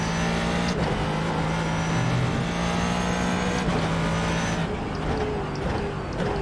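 A GT3 race car in iRacing drones loudly and steadily on an outlap, its engine note holding a constant pitch with small shifts, with no talk over it.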